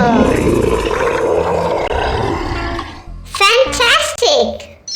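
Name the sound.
dinosaur roar sound effect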